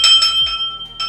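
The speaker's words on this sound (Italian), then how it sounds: "Una campana." An old bronze tower bell from a villa in Longarone rings with several bright metallic strikes, each with a long shimmering resonance, heard close and alone.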